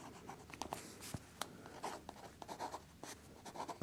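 A Lamy Al-Star fountain pen with a fine nib writes in Diamine Sepia ink, giving soft, close scratchy strokes in short irregular bursts with brief pauses between them, quiet and with no talking.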